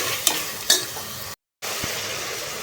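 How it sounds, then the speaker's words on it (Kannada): Tomatoes softening in a pan as they are stirred, with a steady low sizzle and two brief scraping stirs early on, close and moderately loud, broken by a short silent gap. "ಟೊಮೊಟೊನ ಚೆನ್ನಾಗಿ ಸಾಫ್ಟ್ ಆಗೋವರೆಗೂ ಇದನ್ನು ಬೇಯಿಸ್ಕೋಬೇಕು ನೋಡ್ರಿ"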